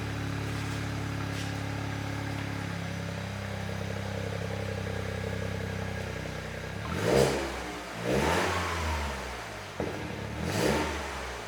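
A Toyota GR Yaris with a handmade custom cat-back exhaust idles with a low, steady burble, then revs sharply several times, each blip rising in a throaty roar and dropping back.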